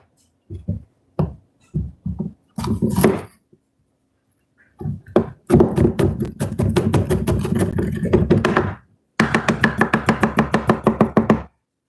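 A knife chops a green pepper on a cutting board in crisp, close taps, a few scattered strikes first, then long rapid runs of quick even chops separated by short pauses, with no voices.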